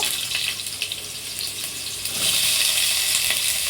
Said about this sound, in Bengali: প্রথমে আলুগুলো ভেজে নেব।